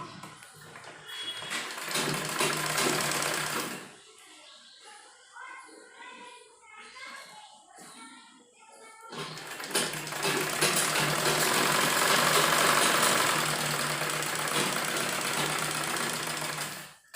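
An electric sewing machine stitches the side seam of a kurti up to the waist, running in a loud steady whir, pausing briefly amid quieter handling sounds, then whirring again at length.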